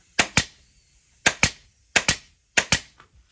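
A staple gun fires while a chair is being upholstered: four pairs of sharp, loud, close snaps, each pair quick, the pairs spaced about a second apart, with quiet between them.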